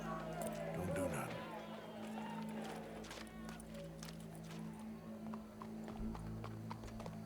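Horse hooves clip-clop steadily in Red Dead Redemption 2, the walking rhythm running throughout beneath game speech, with a crowd murmuring faintly behind.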